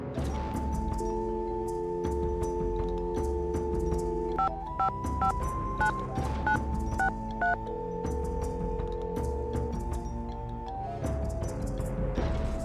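Telephone keypad tones beep in a quick string of dialing in a Nancy Drew video game, sounding over a steady tonal game music bed, clear and close.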